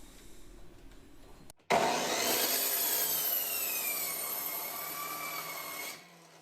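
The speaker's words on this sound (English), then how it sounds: "I need to cut the ends of the 1x4 boards at a 45-degree angle miter cut, which I can do with a quick adjustment of my chop saw." A chop saw makes a 45-degree miter cut through a 1x4 board: a sudden loud whining rip that holds for about four seconds, then stops, with faint handling noise before it starts.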